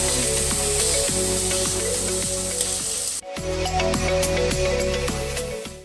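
Tomatoes being sautéed in a pan with onion and garlic for spaghetti sizzle loudly and steadily over a constant hum, with a short dip in the sound partway through.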